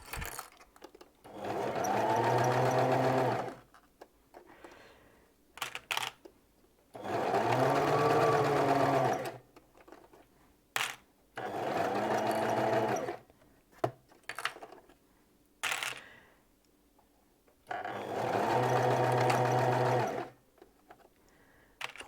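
A sewing machine stitching pyjamas, running in four long buzzing bursts of a few seconds each, separated by pauses with small handling clicks and knocks.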